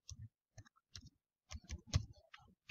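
Sparse mouse clicks at a computer, short crisp ticks arriving singly and in small clusters with quiet gaps between them, close and soft, no talking.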